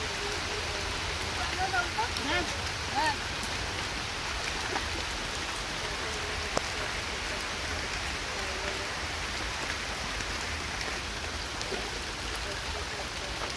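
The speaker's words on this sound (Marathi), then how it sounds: "इथं कसं पाऊस पडतोय" Soft, steady rain patters across open farm fields in a continuous low hiss, with people talking quietly throughout.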